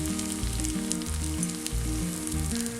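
Leftover oil from frying chicken sizzles and crackles steadily in a pan. The frying hiss is continuous and close, over low background music.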